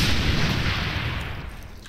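Booming shotgun blasts in Brutal DOOM on Ultra Violence, a dense roar of gunfire that fills the whole stretch and slowly fades toward the end, with no voices.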